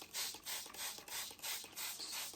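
Short bursts from a hand pump sprayer misting a 10% nanocellulose solution onto a very fragile, brittle book cover, about five rhythmic hissing sprays, close and fairly loud with no talking.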